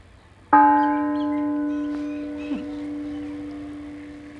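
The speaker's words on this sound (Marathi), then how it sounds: "ही बघा घंटा केवढी मोठी आहे" A large bell at Gobindgarh Fort, Amritsar, struck once, ringing out loud and close with a deep, sustained hum that slowly fades, followed by a faint second knock.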